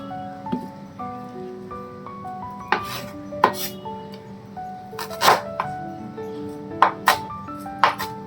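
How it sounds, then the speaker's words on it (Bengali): An onion is chopped with a knife in a home kitchen, giving a series of sharp, close knocks and clinks spaced irregularly over a low background hum, with no voices. "প্রথমে আমি পেঁয়াজটা কুচিয়ে নিচ্ছি"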